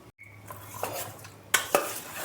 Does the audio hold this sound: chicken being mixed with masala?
yes